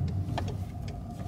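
A car rolling slowly into the director's car park at the Crystal Palace football stadium, its engine a low, quiet hum from inside the cabin with a few faint clicks and rustles.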